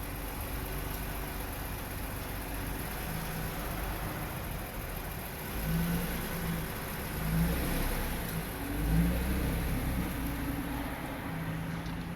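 Acura NSX driven on the road for an alignment check, with a steady low engine drone and road rumble throughout, a few brief swells of revving, and no talking.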